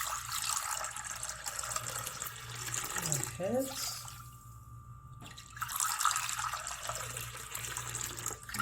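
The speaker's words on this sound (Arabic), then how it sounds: "نزيدو نديرو ربع ماء" Water is poured into basbousa batter in a home kitchen, a steady broadband splash running under the whole stretch with a brief lull midway, while a person speaks briefly.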